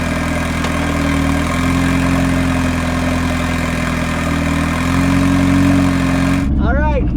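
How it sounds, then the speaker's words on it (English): A Mazda Miata, set up as an offroad build, idling roughly after a cold start, a loud, steady low engine drone that continues with no break until near the end. "I will admit it is not the cleanest of cold starts."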